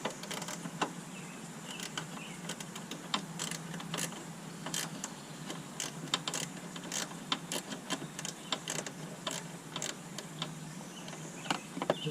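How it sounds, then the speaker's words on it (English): A wrench ratchets a headlight nut on a 2018 Porsche Cayman, giving faint, fast, irregular clicks and ticks that go on throughout. "I gotta put the wrench at an angle just to get up on that nut"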